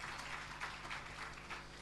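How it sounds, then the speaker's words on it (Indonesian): Church congregation applauding during a Sunday worship service, a steady wash of clapping that stays at a low, even level for the whole stretch with no voices on top. "Dan sekali lagi berikan tepuk tangan bagi Tuhan."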